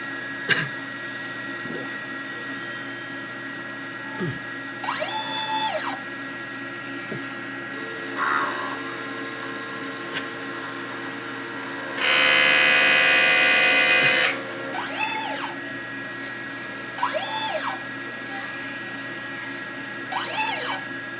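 An inkjet printer runs a head cleaning cycle. Steady mechanical whirring is broken by repeated short chirping beeps and a louder burst of buzzing partway through.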